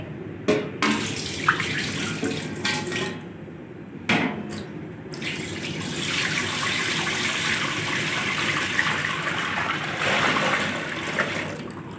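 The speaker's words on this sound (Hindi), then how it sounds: "पतीला चढ़ाएंगे चूल्हे पर। 7 किलो दूध डालेंगे।" Seven kilos of milk pour into a large cooking pot for carrot halwa, a steady gushing, splashing stream that settles into a continuous rush after a few sharp knocks and clatters of the pot at the start.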